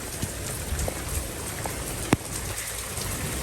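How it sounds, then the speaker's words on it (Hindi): Heavy rain pours down on a rooftop with plants, a dense, steady hiss of drops with a few louder splats and one sharp drip standing out. "बारिश हो रही है बड़ी तेज"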